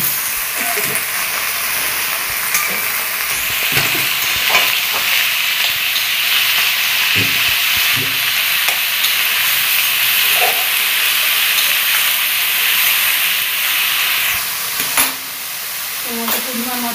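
Onion and snake gourd fry in a hot pan with a loud, continuous sizzle and hiss, broken now and then by sharp clicks of stirring, with no one speaking.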